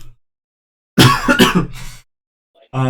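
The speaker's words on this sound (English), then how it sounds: "Again with the cough" A couple of short throaty coughs close by, followed after a pause by another brief cough starting up.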